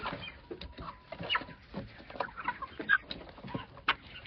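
Hens clucking and chattering at close range while being fed grain and potatoes in a farmyard, a dense overlapping mix of short clucks and squawks with no voices.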